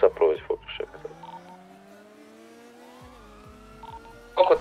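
A police siren wails in a GTA roleplay chase, a clear rising and falling electronic tone under the game's engine hum, with voices talking before and after it.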